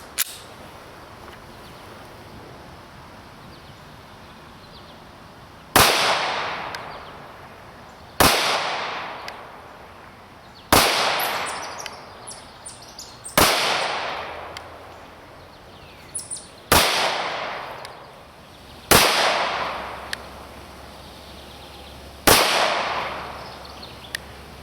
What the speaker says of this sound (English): we're going to shoot at 7 yards, 21 feet to get a feel for the, I guess, the combat accuracy of the gun.